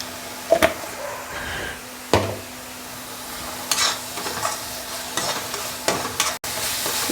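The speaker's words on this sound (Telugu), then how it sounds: "టమాటా కూడా బాగా వేగాలి" Tomatoes frying in oil in a pan for egg pakodi kurma, a steady sizzle under occasional scraping stirs and clacks of a spoon against the pan, close up with no talk.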